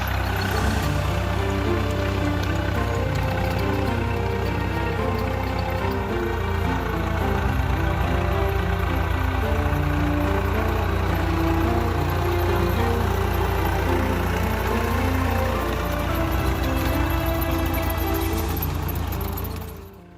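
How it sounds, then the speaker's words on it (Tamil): Steady rumbling engine drones on for the whole stretch, a low continuous chug of a tractor ploughing a field, with no voices. "டிராக்டர் மூலம் ஏர் ஓட்டி விவசாய நிலத்திலேயே அழித்தார்"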